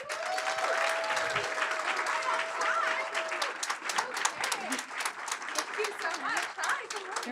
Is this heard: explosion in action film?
no